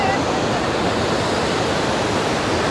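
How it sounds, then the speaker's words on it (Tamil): Water rushes forcefully at Thamaraipakkam dam near Chennai, a loud, continuous broadband roar of surf-like turbulence that fills the whole clip without pause. "தண்ணி எவ்வளோ ஃபோர்ஸாக வருது பாருங்கள்"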